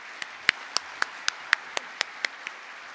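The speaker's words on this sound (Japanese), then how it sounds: "拍手でお迎えください" A single person claps about ten times in an even, quick rhythm, sharp and close, in an otherwise quiet lecture hall, welcoming a speaker.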